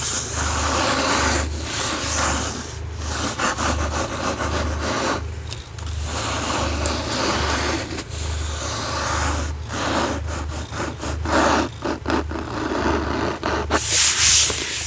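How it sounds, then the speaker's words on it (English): Close, steady scratchy rubbing on a book's paper dust jacket continues in long repeated strokes, with brief pauses and a louder rustle near the end, and no voices. "I like the top, the dust jacket. Got a nice sound to it. Nice scratchy"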